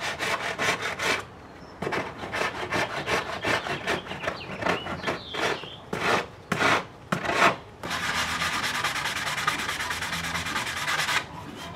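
A motorcycle seat pan mold for a GS550 cafe racer is sanded by hand in quick rhythmic back-and-forth strokes, close and scratchy, with short pauses and a fast steady run near the end.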